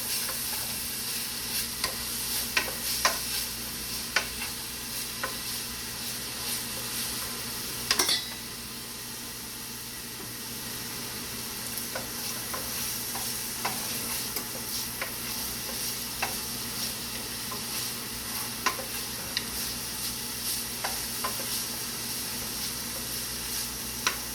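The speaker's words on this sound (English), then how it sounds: "I'm going to stir that up with the onion." Chopped onion and garlic sizzle steadily in a hot pan while a utensil stirs and scrapes, with occasional clinks against the pan, close and continuous with no talking.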